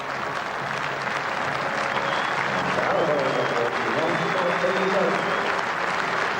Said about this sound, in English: Lara receives a standing ovation here at the Riverside